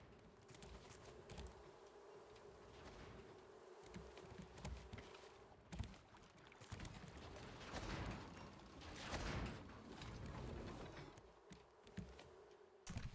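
Bees buzzing in the video game Raft, a low droning hum sustained behind louder in-game footsteps, thuds and movement noises that swell and fade across the scene.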